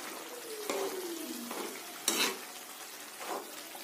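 Ground spinach is stirred into masala cooking in a pan for palak paneer. A spoon scrapes in several short strokes with a sharp clack, over a soft, steady sizzle.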